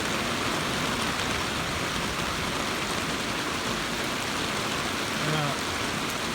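Rain falling outdoors over pasture land, a steady, even hiss of drops filling the scene without a break, with a brief faint sound near the end.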